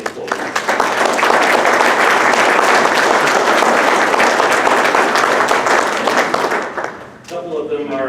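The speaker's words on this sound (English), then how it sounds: "Let's have a round of applause for our MDEC employees." Employees at an annual meeting get a loud, sustained round of audience applause that fades out near the end, after which a voice begins speaking.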